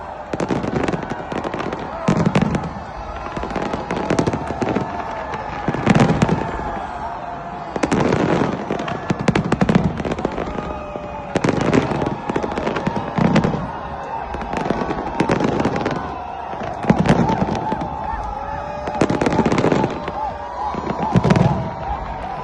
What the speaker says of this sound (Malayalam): ഒരു രക്ഷയില്ലാത്ത ഫയർ വർക്ക്സും മറ്റു കാര്യങ്ങളുമാണ് ഇന്നിവിടെ ഉണ്ടായിരുന്നത്